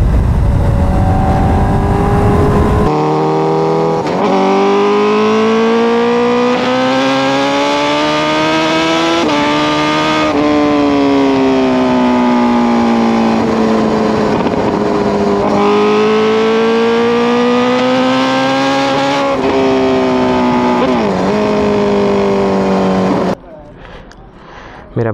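A naturally aspirated hyperbike motorcycle engine revs hard and sustained, its pitch rising and falling through long pulls and gear changes, loud and close, before cutting off abruptly near the end.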